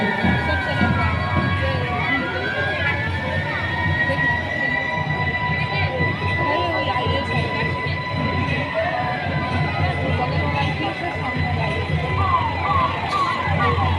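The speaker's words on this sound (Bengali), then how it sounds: "আরামবাগ মহকুমার সিভিল ডিফেন্সের গাড়ি।" A civil defence vehicle's siren wails steadily over loud rumbling traffic and crowd noise at a Republic Day parade in Arambagh, rising and falling as the vehicle passes close by.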